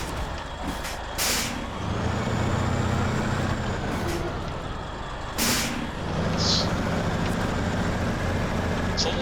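A truck engine in the SnowRunner video game, a loud, continuous low diesel rumble with a couple of sharp hissing bursts, close and steady throughout, with no talking.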